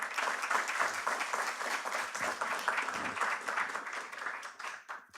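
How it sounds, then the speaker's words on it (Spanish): Sustained audience applause at a Peruvian business event on digital maturity of executives, dense and steady clapping throughout that thins slightly toward the end, moderately distant. "Un aplauso para ellos"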